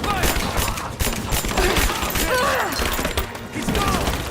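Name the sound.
gunfire in the video game Rise of the Tomb Raider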